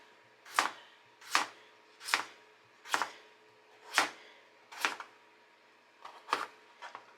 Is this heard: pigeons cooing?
no